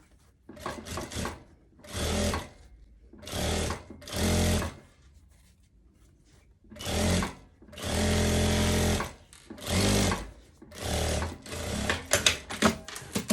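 Sewing machine stitching the lining of a tweed overcoat in bursts, each run of stitching lasting one to two seconds with short pauses between, loud and close, with no talk over it.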